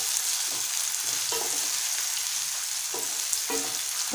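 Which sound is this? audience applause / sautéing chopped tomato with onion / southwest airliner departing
sautéing chopped tomato with onion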